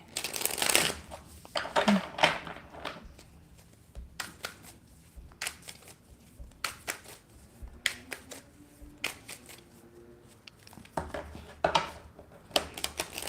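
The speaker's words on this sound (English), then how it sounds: "Let me shuffle these cards" Tarot cards shuffled by hand in a series of quick riffling and slapping bursts, some sharp and close, spread across the clip with quieter gaps between.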